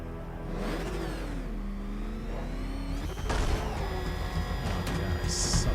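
Batmobile engine in Batman: Arkham Knight revving, rising and falling in pitch with a whirring, mechanical drone, then surging louder partway through as it accelerates hard, close and continuous.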